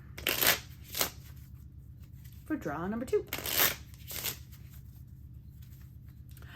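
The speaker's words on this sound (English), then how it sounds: "8 of clubs is going back in the deck, and we will shuffle" Several quick bursts of cards being riffled and shuffled, crisp and close, interleaved with someone speaking softly.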